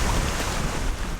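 Wind gusting across a choppy bay in New Zealand's Marlborough Sounds, with waves slapping nearby, a loud, dense, continuous rush with no voices.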